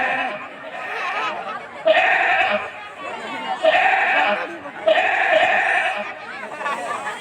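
A goat bleats in a village, three loud wavering calls about a second and a half apart over a low outdoor murmur, with a faint voice in the background.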